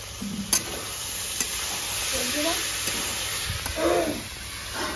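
Eggplant being stir-fried in a pan for a Bengali rohu fish curry with potato and gravy, a steady close sizzle with a few scraping stirs and clinks, no talking.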